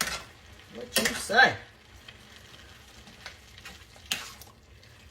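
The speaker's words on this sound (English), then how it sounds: "We're going to put our garlic. We'll stir that around." Garlic sizzles quietly in a pan of homemade spaghetti sauce while being stirred, with a few sharp scraping clatters of the spoon and a steady soft fry underneath, plus a brief spoken question.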